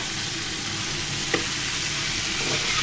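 Washed lentils go into a pan of frying spices, producing a dense, even sizzle with a single brief scrape or clink partway through, close by and steady, no talking.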